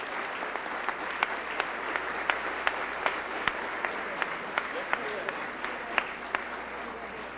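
Applause at the Eclipse Awards horse racing ceremony, a steady wash of many hands clapping in a large hall, fairly distant, with a few sharper claps standing out.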